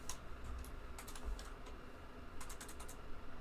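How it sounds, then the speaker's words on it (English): Quiet, irregular bursts of clicking come from fingers typing on a computer keyboard, close but faint, alone with no talk. "Let me type it out for you."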